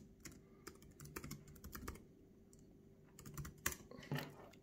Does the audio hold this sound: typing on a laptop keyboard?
yes